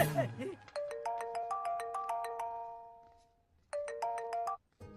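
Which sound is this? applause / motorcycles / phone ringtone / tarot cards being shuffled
phone ringtone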